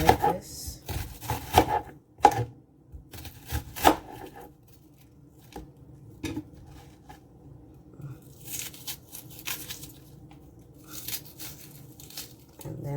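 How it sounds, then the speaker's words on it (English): A knife chops a piece of onion on a board, with sharp irregular taps in quick clusters, then softer scraping and rustling for the rest. "the final thing we're going to cut up is a piece of onion"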